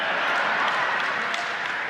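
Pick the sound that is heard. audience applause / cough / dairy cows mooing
audience applause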